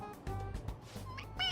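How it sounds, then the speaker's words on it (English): A stuffed toy cat lets out a few short electronic meows, one after another, each set off by pressing its head, loud and close. "It meows when you press on its head."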